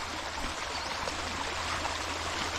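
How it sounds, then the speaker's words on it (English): A small brook runs beside a countryside footpath, a steady close trickle and babble of flowing water with a low rumble underneath and no voices. "Normally just a little brook, I think, running down the side of the path there"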